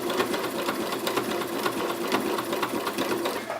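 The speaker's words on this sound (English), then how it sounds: "it'll signal the machine to then go backwards with a zigzag stitch back up to the top" A sewing machine stitches a one-step buttonhole with zigzag stitch, a fast, even mechanical chatter of needle strokes, close and steady throughout with no talk.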